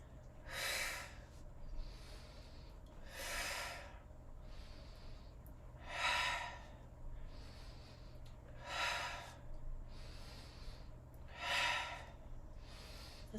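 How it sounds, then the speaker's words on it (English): Deep breathing during a strength workout, with slow whooshing inhales and exhales repeating about every two and a half seconds, five or six breaths in a row, close and steady over a low background hum. "and breathe."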